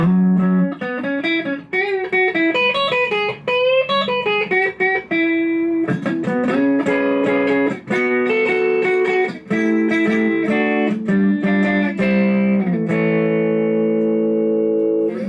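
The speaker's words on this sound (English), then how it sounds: "you hear a little bit more bite from the bridge pickup now." Electric guitar, a Godin 5th Ave TL, played through the bridge pickup, a bright, biting tone with effects, running through a continuous melodic passage of notes and chords.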